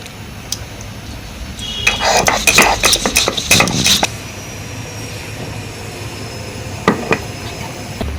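Dried paddy chilies are ground on a stone for a curry paste: a quick burst of loud, rhythmic scraping and knocking strokes that stops after a few seconds, then a couple of isolated clacks.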